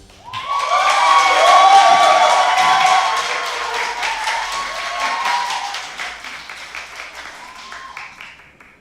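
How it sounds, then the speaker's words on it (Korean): A political audience at a talk show breaks into loud cheering, shouting and clapping for a politician, swelling quickly, then tapering off over several seconds. "방금 전에 환호는 누구한테나 하는 겁니다"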